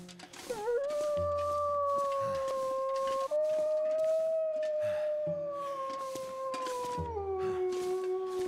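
A wounded wolf howls in The Long Dark, a long, loud, wavering howl that rises, holds and slowly falls over several seconds amid the game's ambient backdrop, with no talk.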